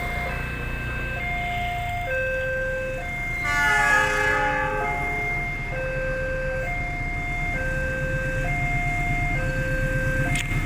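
A train passes a railway level crossing, JPL 739 on Jalan HOS Cokro in Yogyakarta, on the airport rail line, with trains running in both directions. A steady alternating two-tone crossing alarm repeats over a loud, continuous rolling rumble, with no talk.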